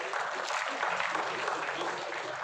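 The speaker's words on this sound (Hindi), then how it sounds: "दारेन शाहिदी साहब, एक बार जोरदार तालियों से" Audience applause at a Hyderabad news event, a steady dense wash of clapping from a crowd that holds through the whole moment without a break.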